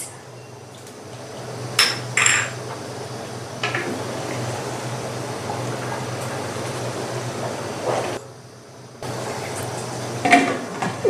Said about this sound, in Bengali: ঢাকনা দিয়ে ঢেকে দিলাম।